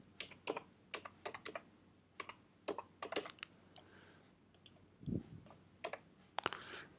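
Quiet typing on a computer keyboard, bursts of crisp individual key clicks with short pauses between words, close and alone without talk.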